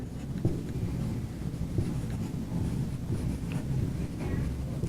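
Pen or marker writing during a lecture makes a continuous near scratchy rasp of short strokes, fairly loud and up close, with no speech over it.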